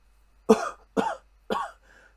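Three sharp coughs in quick succession, close and fairly loud, followed by a faint wheezy breath.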